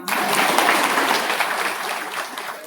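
Audience at a women's political rally clapping together, a dense burst of applause that starts abruptly and slowly thins out over a few seconds, with faint voices mixed in.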